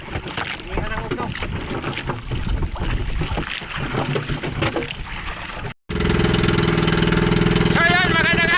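A fishing boat's engine runs, first beneath people talking and then alone and loud, a steady droning hum with an even mechanical pulse close by.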